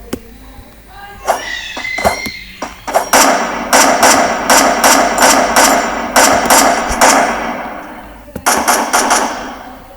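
Rapid bursts of gunfire in the video game Free Fire crack in quick repeated volleys, loud and sharp, with brief pauses between strings of shots.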